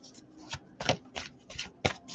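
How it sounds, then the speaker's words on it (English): A deck of playing cards is shuffled up close, giving a series of quick riffling bursts in an uneven rhythm, with no voice over them. "Here, so you can see me shuffling."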